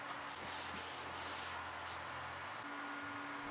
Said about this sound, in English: I sanded what would be the inside face of each of the panels